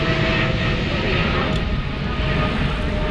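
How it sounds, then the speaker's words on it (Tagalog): A fixed-wing airplane passes overhead at a park, a loud, steady engine roar holding through the whole stretch with no other sounds standing out. "May aeroplano pa, oh."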